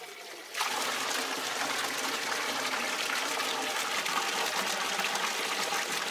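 Fresh water starts suddenly and then runs steadily, gushing for a horse to drink, close and loud, a continuous splashing flow with no talk.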